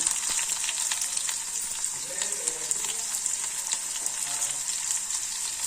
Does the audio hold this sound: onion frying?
yes